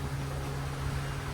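A sailboat's watermaker runs as a steady mechanical hum with a strong low tone, continuous and fairly close, on a yacht under sail at sea bound for Fiji.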